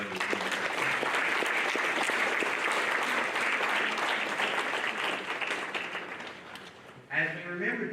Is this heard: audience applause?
yes